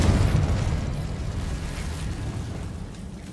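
Confringo fire spell exploding in Hogwarts Legacy: a deep, dense rumble that starts loud and slowly fades away, with no clear sharp attack.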